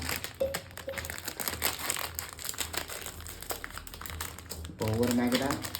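Plastic Maggi noodle packets are cut open and handled up close, giving a dense run of crinkling and crackling plastic, with a voice joining near the end.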